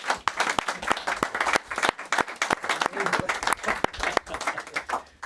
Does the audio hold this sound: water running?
no